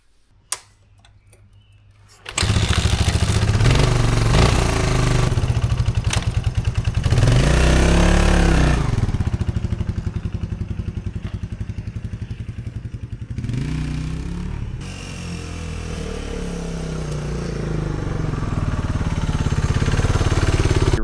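A 1990 Suzuki DR250S dual-sport motorcycle engine starts after a brief mechanical click, then idles loudly up close and revs up and down twice in rising and falling sweeps before settling back to a steady, rattly idle.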